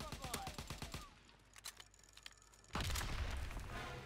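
Rapid bursts of gunfire in Call of Duty: WWII crack through the first second, followed by quieter scattered shots and then a loud sustained rumble of battle noise.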